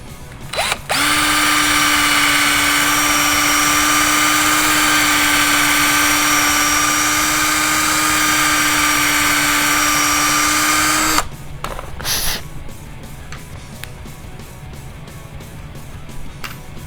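A power drill fitted with a size 964 bit opens holes in Tekno NB48 2.1 RC car hub parts, with one loud steady whine running about ten seconds close up, then stopping into quieter handling noises.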